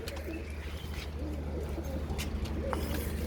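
Pigeons on a rooftop coo softly and steadily against a constant low background hum, with a few faint chirps scattered through the short stretch.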